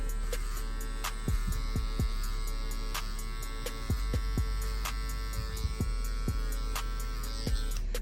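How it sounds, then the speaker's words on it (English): Flash FX soft hair trimmers run during a high taper haircut on a client with locs, giving a steady close electric hum with occasional faint clicks and taps and no talking. "we're gonna go in with our soft trimmers, the Flash FX"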